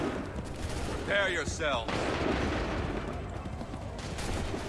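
Musket volleys crack in Assassin's Creed 3, with a dense burst of massed gunfire and rolling echo on the battlefield, while a commanding voice calls out orders between the shots.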